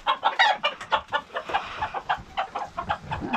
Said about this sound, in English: So we're feeding the chickens our scraps.